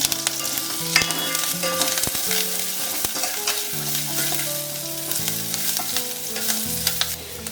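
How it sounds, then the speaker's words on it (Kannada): Garlic and curry leaves fry in a hot pan for a South Indian lunch, giving a steady, close sizzle with occasional stirring clatter and a faint tonal backdrop throughout. "ಈ ಬೆಳ್ಳುಳ್ಳಿ ಚೆನ್ನಾಗಿ ಫ್ರೈ ಆಗಬೇಕು. ಸ್ವಲ್ಪ ಕರಿಬೇವು ಸೊಪ್ಪು ಹಾಕ್ತಿದ್ದೀನಿ."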